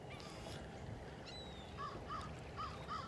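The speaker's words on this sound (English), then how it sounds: "We got a lot of these blackbirds in the park." Blackbirds call out in a park near the beach in North Naples, Florida, giving a few short, fairly faint cries in the second half over steady outdoor background noise.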